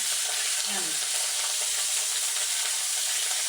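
Bhola fish in mustard paste fries in a pan with a steady, dense sizzle that holds unbroken throughout, close and fairly loud.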